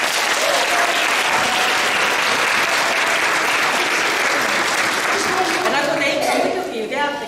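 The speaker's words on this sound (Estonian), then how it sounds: "Nii et kõigepealt suur aplaus kõikidele lauljatele." An audience at a children's singing concert applauds the young singers with dense, loud clapping that fills the whole stretch and tapers slightly at the end, while a voice talks over it.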